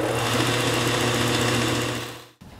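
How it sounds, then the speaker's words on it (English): A machine-like buzzing whir is heard as the edge of a wooden delivery box lid is sanded. It runs close and steady for about two seconds, then stops abruptly, leaving a brief quieter tail. "The solution to it not locking is just sanding off a little bit on the edge."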